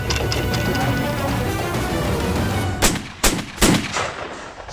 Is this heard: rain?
no